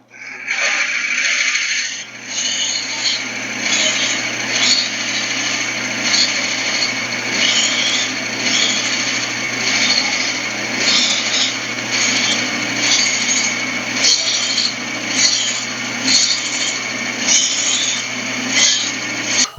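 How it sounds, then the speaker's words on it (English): A steady grinding whir of a Forstner bit boring into wood to hollow a goblet, continuous and close for the whole stretch, with rough scraping texture and no voices. "So we're going to bore this out with the Forstner bit"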